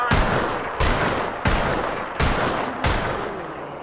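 Heavy gunfire from a video game: a dense, loud stream of shots and booming blasts, with five or six strong bangs landing at steady intervals above a constant roar of fire, and no voices.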